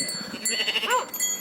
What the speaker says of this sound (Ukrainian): Проходьте, вівці.